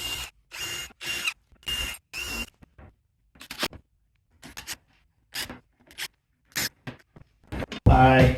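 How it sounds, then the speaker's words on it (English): Power drill countersinking screws into a pine casket lid, several short whirring bursts separated by pauses, close up, followed by lighter clicks and handling noises and a louder burst at the end. "I countersink the screws just a little bit"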